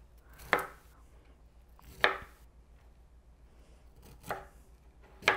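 Four sharp knife chops through cauliflower into florets on a cutting board, spaced irregularly with quiet pauses between each cut.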